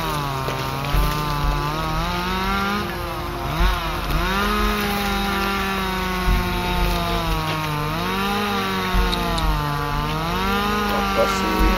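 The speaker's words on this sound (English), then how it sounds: "He's cutting through the shark, inside the shark with the chainsaw." A chainsaw cuts through a shark from the inside, its engine whining and buzzing loudly up close, the pitch rising and falling as it bogs and revs without a break.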